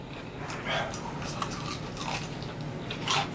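Someone bites into crunchy fried chicken coated in honey and hot sauce, giving several close, crisp crunches and chewing sounds at an uneven pace, with faint speech in the background.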